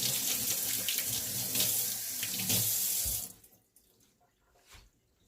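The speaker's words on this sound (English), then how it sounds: "Rinse my hands." A kitchen tap runs in a steady close splash while hands are rinsed under it, then shuts off, leaving a few faint drips and small handling sounds.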